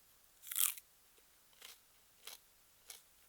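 Someone bites into freshly pulled raw garlic on a farm: one loud, crisp crunch followed by three softer crunchy chews at a steady pace, close up and quiet otherwise.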